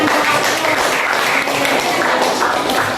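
Applause from a classroom audience after a student group presentation, a steady dense patter of hand clapping throughout.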